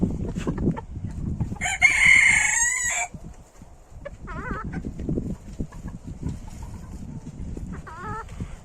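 A single rooster crow rings out amid background clucking and rustling, with a couple of short, quieter squawks afterward.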